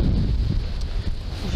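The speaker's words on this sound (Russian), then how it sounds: "Опять ветер бешеный." Strong wind in Zheleznovodsk buffets the microphone with a steady low rumble and gusty roar throughout, loud and close, no voices.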